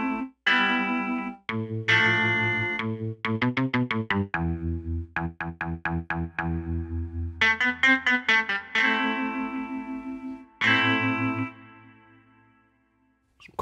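Mellotron sample played on a Nord Electro 6D keyboard with a chorus effect: a series of short and sustained chorused notes and chords in a halting rhythm with brief gaps, ending in a fading held tone.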